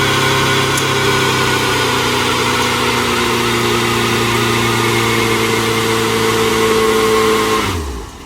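A 2020 Ford Mustang EcoBoost runs a line lock burnout. Its engine holds a loud, steady rev for several seconds and then drops off abruptly near the end.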